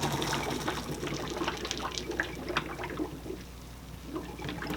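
Liquid draining from a crockpot of beans and ham, a steady close splashing pour and trickle that thins out toward the end, moderate in level with no talk.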